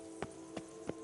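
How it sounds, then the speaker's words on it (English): A horse gallops in The Witcher 3, three evenly spaced hoof thuds, clear and moderately close over a quiet game background. "Even a horse drops if you ride it at a constant gallop."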